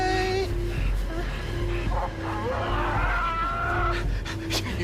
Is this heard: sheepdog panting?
yes